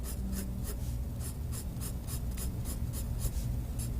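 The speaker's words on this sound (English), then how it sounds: "I'm making lines that run in the same direction with very little paper space in between." Colored pencil strokes scratch across paper in a quick, steady rhythm of short parallel lines, close and clear with no talking, as an area is filled in with closely spaced hatching.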